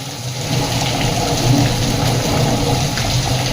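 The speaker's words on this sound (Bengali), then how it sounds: "এইখানটাতে পানি পড়ছে দেখুন" Rainwater pours down loudly in Morbi during a heavy downpour, a continuous gushing splash of falling water close by that swells slightly after the first moment and holds steady.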